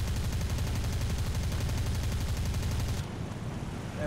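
Rapid aircraft cannon fire in the War Thunder combat flight game, a dense, continuous rattling burst lasting about three seconds before cutting off to a quieter engine drone.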